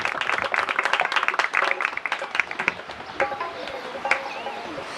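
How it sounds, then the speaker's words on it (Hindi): A church congregation bursts into loud applause for a pastor being welcomed, dense overlapping claps that thin out and fade partway through, with a voice rising briefly near the end. "मैं चाहूंगा कि आपकी जोरदार तालियों में खुदावंद के अजीम खादम को पास्टर शाहिद मसीह को दावत दूंगा।"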